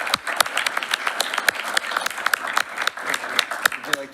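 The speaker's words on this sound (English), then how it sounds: "Everybody, a round of applause for these gentlemen." An audience at a school board meeting applauds, sharp individual claps standing out from a steady crowd of clapping, moderately close, with a few voices murmuring underneath.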